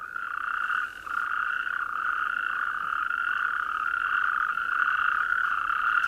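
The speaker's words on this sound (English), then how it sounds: "These are natterjacks." Natterjack toads calling at a springtime waterhole, a loud, continuous rolling chorus of steady trilling croaks, close and unbroken, with no voices.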